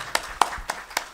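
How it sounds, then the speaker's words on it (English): A handful of sharp handclaps ring out after a panel discussion at a talk on young people, gender and digital life. Four distinct claps are spaced evenly, sounding like one or two people rather than a full crowd. "Clap hands for them"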